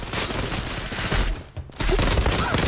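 Rapid rifle gunfire from an MPT-76 in the competitive shooter game Zula, dense bursts of loud shots filling the clip with a brief lull in the middle before firing resumes.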